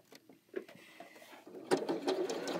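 A domestic sewing machine stitches a patchwork quilt block, a Schoolgirl Sampler cake stand or Crockett Cabin block. Faint handling clicks come first, then the motor whirs into a steady, close, mechanical run of stitching.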